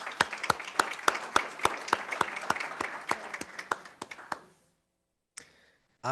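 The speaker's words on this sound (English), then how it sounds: "Can we get applause?" A small audience at a conference panel on crisis and investment claps with sharp, separate, fairly regular hand claps that thin out and stop after about four seconds, followed by silence and a brief noise near the end.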